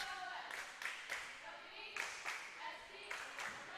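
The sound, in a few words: Normal West JV and Varsity fans cheering in the background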